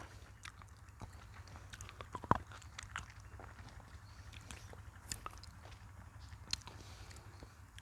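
Soft, close chewing of ripe papaya and jujube fruit, faint moist bites and munching clicks scattered irregularly over a low steady background hum.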